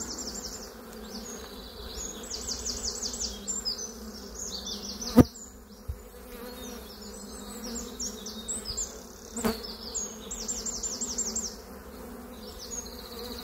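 A honeybee swarm buzzes steadily above the hive, a dense continuous drone with shifting higher whines of individual bees passing close, plus a couple of sharp knocks.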